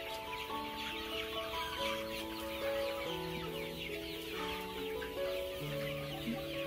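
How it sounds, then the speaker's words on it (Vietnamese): Free-range chickens in a pure-bred Mía chicken coop on a Vietnamese farm, clucking and calling steadily throughout, with several overlapping birds at close to moderate distance and no talking. "Đây là một chuồng gà mía thuần nữa."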